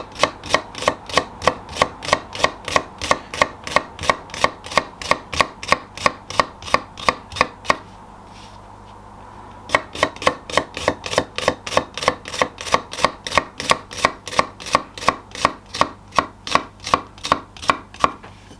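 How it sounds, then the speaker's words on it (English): Knife chopping salsa ingredients on a cutting board into a fine dice, with steady rapid close taps throughout, one brief pause in the middle, then the same fast rhythm resumes. "this salsa, we want everything nice and finely diced"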